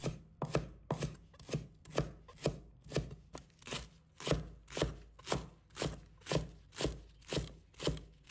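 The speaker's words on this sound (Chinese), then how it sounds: "我们准备2根蒜苗，把它切成小粒，切均匀一些" A knife chops two garlic sprouts into small even pieces on a cutting board, a steady run of crisp, evenly spaced thuds and clicks, close and clear with no talk.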